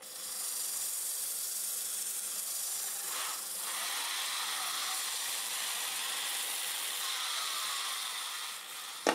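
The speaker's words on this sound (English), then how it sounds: "I'm going to go ahead and sand the outside." Sandpaper of 150 grit rubs against a spinning wood turning on a lathe, making a steady, soft hiss that continues evenly with faint brief variations.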